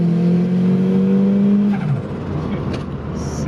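A Datsun 510 with a turbocharged CA18DET engine accelerates hard, a loud rising engine tone that holds, then drops off abruptly as the driver lifts, leaving a rougher idle rumble.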